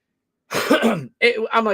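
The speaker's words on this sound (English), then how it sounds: "I have to clear my throat." Two harsh throat-clearing rasps, close and loud, separated by a short pause after a moment of silence.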